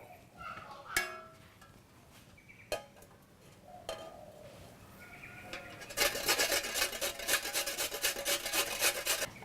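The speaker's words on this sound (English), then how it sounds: "And now we're going to grate the coconut." Coconut is grated by hand for a Balinese young papaya salad: a few isolated scrapes give way to a fast, steady rhythm of rasping strokes, close and growing louder.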